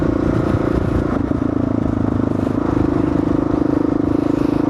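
Kawasaki KLR motorcycle ridden through city streets near traffic lights, its engine a steady loud drone throughout with a constant low hum and some clatter, no talking.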